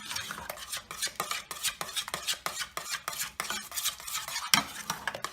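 A spoon stirs egg mixture in a pot on a low burner for lemon meringue pie, making steady rhythmic scraping and clinking against the metal, close and clear with no talking.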